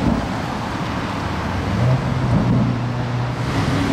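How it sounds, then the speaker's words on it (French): A Mercedes-AMG C43 fitted with a C63-style exhaust drives by, its steady low engine drone swelling slightly mid-pass amid broadband road and traffic noise, no voices. "Il a l'échappement style C63 MG, mais c'est bien une C43 MG, hein."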